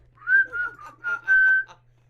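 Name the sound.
someone whistling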